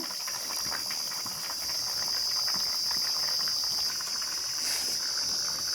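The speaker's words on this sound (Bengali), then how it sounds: "তো ঝোলটা ফুটছে।" Koi fish curry boils in a pan, giving a soft, steady bubbling hiss that carries on evenly with no talking.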